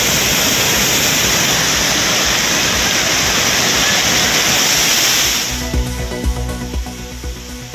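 Courtallam waterfall in a flash flood roars as a loud, broad wall of rushing water, then cuts sharply near the end to a quieter, choppier background.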